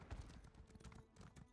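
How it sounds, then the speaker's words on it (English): A mounted horse in the video game Elder Scrolls Online clip-clops along in quick, rhythmic hoofbeats, faint and steady under low game background sound. "Let's get on our mount and go."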